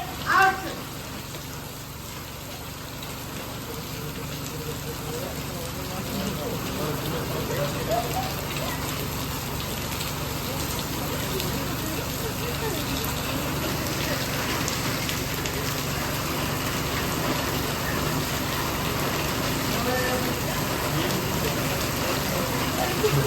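Heavy rain falls steadily on a TV serial shooting set, a dense continuous hiss of water on surfaces lasting throughout, with a brief sharp knock at the start and faint voices in the background.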